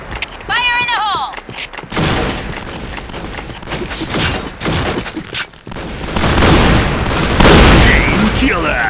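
Point Blank video game shotgun fire comes as heavy, booming blasts in quick succession, loud and dense with an electronic chirp near the start, layered with game voice callouts.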